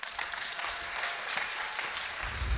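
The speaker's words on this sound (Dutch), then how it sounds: "Mag ik een applaus voor team Twentse Zorgcentra?" An audience at a care-sector hackathon pitch event claps steadily, a dense, even burst of applause filling the room from start to finish.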